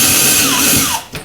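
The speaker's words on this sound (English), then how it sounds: "To drill a couple of very small 1/16 inch holes." A power drill spins a tiny 1/16 inch bit through a stitch-and-glue kayak panel, a close, loud buzzing whir that shifts in pitch and then cuts off near the end.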